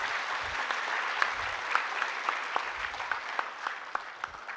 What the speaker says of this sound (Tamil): தயவுசெய்து அனைவருக்கும் ஒரு பெரிய கைத்தட்டு கொடுப்போம்.